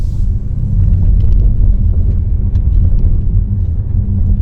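A Porsche Panamera Turbo E-Hybrid driven fast over rough, potholed gravel, heard from inside as a loud, steady low rumble of tyres and suspension, with faint rattles and no talking.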